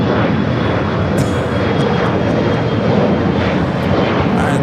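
An Asiana Airbus A380 at Los Angeles International Airport produces a loud, continuous jet engine roar, dense and steady throughout.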